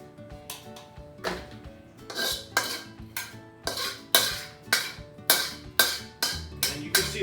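Cooked green vegetables for a curry being transferred from a wok into a bowl, a series of sharp metallic clinks and scrapes of utensil against pan, close and irregular, with no talk.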